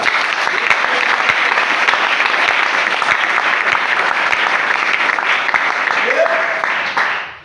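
A church congregation applauds and acclaims the Lord with sustained, dense clapping and cheering voices that fill the room, loud and steady before trailing off at the end.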